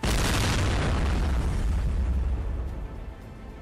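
A mine-clearing line charge detonates in a massive roaring blast, its rumbling boom sustained loudly and then slowly fading.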